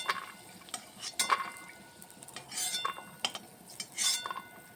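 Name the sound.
peanuts being fried and stirred in a pan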